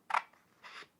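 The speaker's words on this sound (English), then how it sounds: "So I'm going to cut out the template for the front." Two short snips of scissors cutting a paper template for a wooden pipe box front, a sharp louder cut followed by a softer second one, close and alone in a quiet room.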